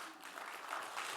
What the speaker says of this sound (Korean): 박수 한번 쳐줘요